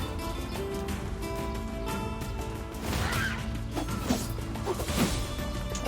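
A heavy melee attack striking and felling a goat in the video game NieR Replicant, a series of sharp thuds and crashes over continuous game ambience, busiest in the second half.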